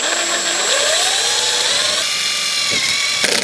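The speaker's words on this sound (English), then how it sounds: "If you are drilling them like this" A loud power drill whines steadily as it drills into a solar panel frame on a truck camper, its pitch rising and shifting as it bites, with a couple of brief clunks near the end.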